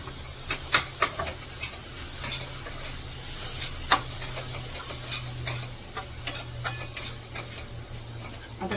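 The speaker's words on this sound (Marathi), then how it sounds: "आता टोमॅटो कापून ठेवले ते टाकते" Chopped tomatoes drop into a hot frying pan for tomato chutney with onions, giving a soft sizzle under repeated scraping and stirring clicks of a spoon against the pan, close by and with no speech.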